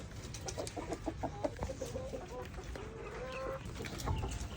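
Chickens cluck and chatter in a busy, overlapping flock, with short repeated calls close by over a steady farmyard background.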